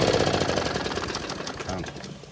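A cheap Chinese department-store lawn mower engine running rich, a loud, fast, rough mechanical chatter that continues steadily throughout, with some voice mixed in.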